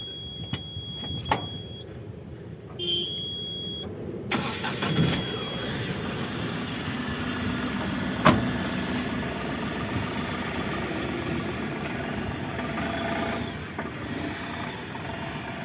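Ashok Leyland Dost Strong LX light truck engine cranking over and catching, then settling into a steady, close diesel-style idle that continues alone without talk.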